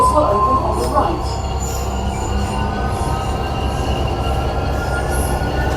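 A metro train rumbles steadily along the track, wheels squealing and screeching loudly near the start, with a continuous close, heavy rolling noise throughout.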